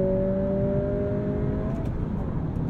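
A 2023 Acura Integra with a manual gearbox drives on the road. Its engine hums steadily with a sustained tonal whine that fades near the end. No one talks over it.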